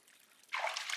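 Water trickling into a bath, a faint quiet start giving way to a soft, close splash and dribble in the second half.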